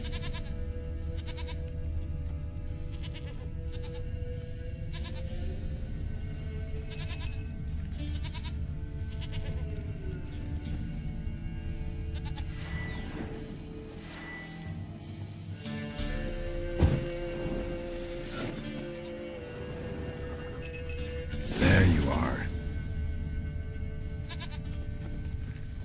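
A goat bleats in The Witcher video game, heard as short wavering calls over a steady bed of game music and ambience, with a louder burst near the end and a brief spoken line.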